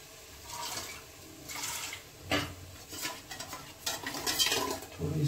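Thick batter of gram flour and sugarcane buttermilk going into a cooking pot in a home kitchen, a soft wet pouring and stirring with light metal clinks, close and fairly quiet, no talking.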